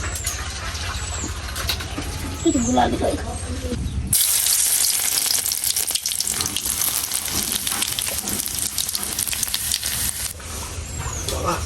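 Boiled food is tipped into hot oil for a home-cooked country-style dish, and loud broad sizzling erupts partway through and then runs on steadily, close and harsh, with faint background noise before the pour.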